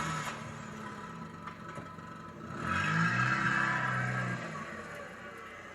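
A car engine turns over and catches, swelling into a louder mid-range running hum that holds for a couple of seconds before easing back to a steady idle, close and without voices.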